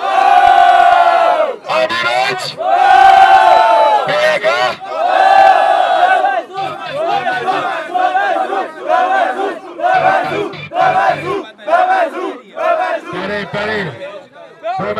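Loud crowd shouting and cheering in bursts at a Brazilian freestyle rap battle, with chanting voices rising and falling and brief gaps between roars.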